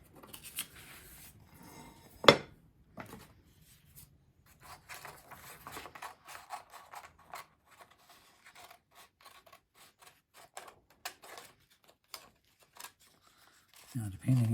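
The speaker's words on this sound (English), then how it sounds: "See, I don't move the scissors, I just move the item I'm cutting." Scissors snip and crunch through a plate as a circle is cut out, a long series of short crisp cuts and rustles at close range, with a voice speaking in places.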